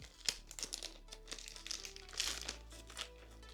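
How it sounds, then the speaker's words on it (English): Close, quiet crinkling and tearing of a plastic cover sealed with a sticker being peeled open around a ProTech knife, in irregular bursts of rustling with small sharp crackles. "In this pouch we have our knife, wrapped into a plastic cover, sealed with a sticker, which I will try to open nicely."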